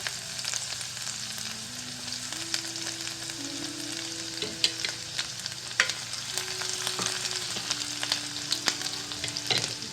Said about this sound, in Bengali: পনেরো ষোলোটা মতো রসুন কুচি করে রেখেছি আমি এগুলো এর মধ্যে দিয়ে দিচ্ছি একটু ভাজা ভাজা হবে